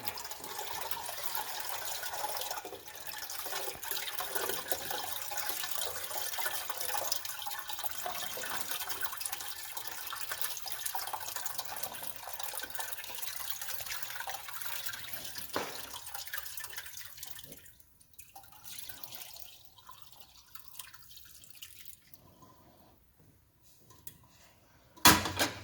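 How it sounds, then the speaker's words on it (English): Homemade peach moonshine of Everclear and peach schnapps trickles and splashes steadily through cheesecloth or a strainer into a container for a long stretch, thinning to faint drips near the end with a brief clunk at the finish. "pour it from this container into another container over some cheesecloth or a strainer"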